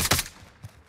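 Gunfire in Call of Duty: Modern Warfare, a short burst of rapid shots at the start followed by a fainter single report, heard fairly quietly.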